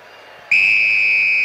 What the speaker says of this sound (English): Referee sounds the whistle and the test match is underway